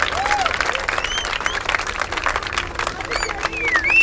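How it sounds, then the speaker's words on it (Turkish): Audience applause at a book fair in Bağcılar, a steady dense wash of many hands clapping from a crowd, with a few whistles and voices mixed in. "ben Bağcılarlı güzel komşularımıza büyük bir alkış istiyorum."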